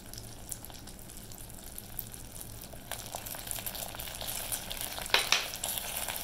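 Hot peanut brittle candy mixture with butter and vanilla is stirred with a spatula, giving a steady close sizzle and bubbling with scraping and sticky stirring sounds that grow louder and busier toward the end.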